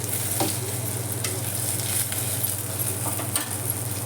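Onion, grated dried coconut and coriander seeds dry-roast in a pan, giving a steady, close sizzle and crackle with soft scraping stirs and a few small clicks.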